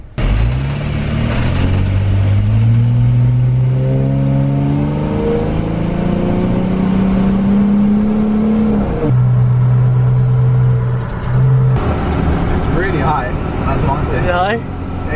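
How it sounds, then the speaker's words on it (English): A car engine on a test drive in Dubai hums and revs steadily, pitch climbing then dropping with gear changes, close and continuous for about fifteen seconds. "my boy Mo Vlogs is test driving my car"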